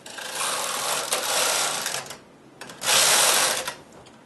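A domestic knitting machine carriage is pushed across the needle bed for two rows while making a golf club cover, giving two loud rasping mechanical sweeps with a short quieter gap between them. No one talks over it.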